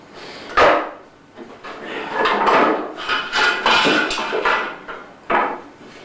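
A flat hammer called a bucker strikes ore on a knockstone, giving a close, uneven run of sharp knocks and scraping thuds with loud peaks near the start and end.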